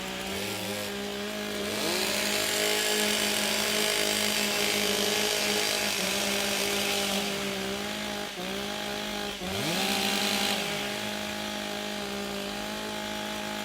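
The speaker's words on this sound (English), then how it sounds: "Warm up your saws." Several chainsaws idle and rev together as competitors warm up their saws at a timbersports event in Australia, a loud continuous engine drone with repeated throttle dips and surges, no voices.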